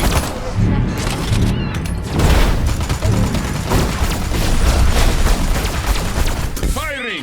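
Weapon fire in the video game Destroy All Humans 2 rolls on continuously with booms and rapid shots, loud and close, while voices call out over the din.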